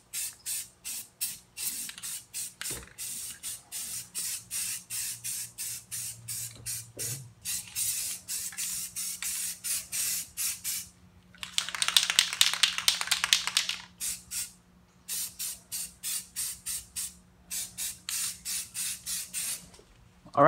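A car wheel being spray painted with aerosol paint, heard as a steady series of short close hissing bursts, with one longer continuous spray in the middle before the short bursts resume.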